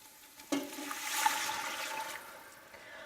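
About three and a half cups of water with vegetable stock pour into a pot over softened garlic, onions and celery, giving a sudden splash and then a steady rushing gush that slowly fades, close and alone.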